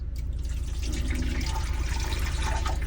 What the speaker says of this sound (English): and slowly pour it down the back.